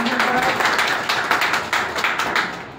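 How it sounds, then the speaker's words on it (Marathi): An audience applauds to congratulate the facilitators of a session, a dense, steady wash of many hands clapping at close range that holds for the whole stretch and eases slightly near the end. "सर्वांनी टाळ्या वाजवून सुलभकांचा अभिनंदन करा"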